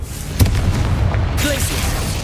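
A Confringo blasting spell goes off in Hogwarts Legacy with a loud close boom and a sharp burst, then a sustained rumbling roar and crackle from the blast that stays dense to the end.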